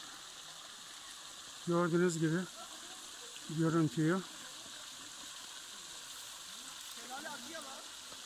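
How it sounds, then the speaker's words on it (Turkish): The large İğdebağlar waterfall, seen on an October nature hike, gives a steady broadband rush of falling water, with people briefly talking over it. "Evet, şelale dedikleri yer burası."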